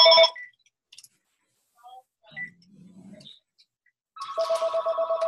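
A telephone rings during an online Zoom meeting: a short, bright ring at the very start, a quiet stretch with faint noises, then steady, pulsing ringing for the last second or so, loud and close.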